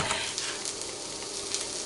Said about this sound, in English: as you can hear, it's sizzling in the pan already